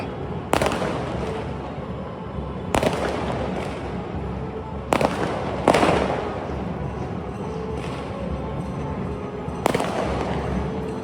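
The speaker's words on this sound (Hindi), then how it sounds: "अच्छा उधर पटाखे चल रहे हैं" Festival fireworks bang repeatedly at a distance in India, sharp cracks every couple of seconds over a continuous background rumble.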